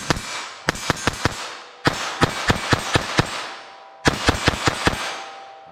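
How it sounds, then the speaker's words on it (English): A Ruger LCRX revolver firing Winchester Super-X .22 LR ammunition, three strings of crisp, sharp cracks in quick succession, loud and close, with short pauses between the strings. "Now 22 LR, how will this shoot?"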